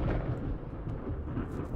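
Thunder from a storm in the fishing game Cat Goes Fishing rolls as a faint, continuous low rumble with no sharp crack, and there is no talk over it.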